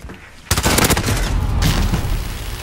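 Rapid automatic P90 fire in a video game: after a brief quiet moment, a loud, continuous burst of close gunshots starts and carries on, swelling again near the end, with light talk underneath.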